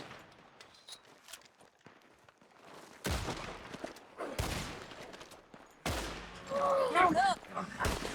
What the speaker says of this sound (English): Ela tá atirando em nada